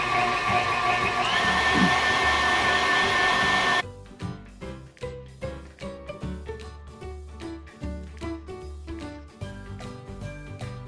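An electric mixer beats eggs with sugar for a Sylvanas batter, a loud steady whirring drone for about four seconds that cuts off abruptly, followed by a string of rhythmic knocks and taps, with no voices.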